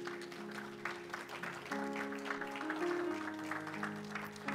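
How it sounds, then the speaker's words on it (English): Scattered clapping from a church congregation on Palm Sunday, fairly faint, with a sustained organ-like tone underneath and a few voices mixed in. "Let's give God a hand clap of praise."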